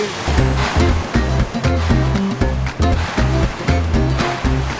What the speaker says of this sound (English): That's the sound of the dried pasta zooming down the helter-skelter into the bags below.